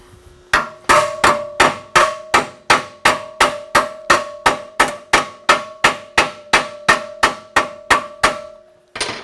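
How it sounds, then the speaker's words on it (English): A ball peen hammer strikes a metal rivet in a steady, rapid series of about twenty sharp, ringing blows, loud and close, each with a brief metallic ring. "I'm going to go ahead and grab a ball peen hammer versus that."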